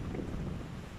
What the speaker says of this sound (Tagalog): Mahangin naman ah.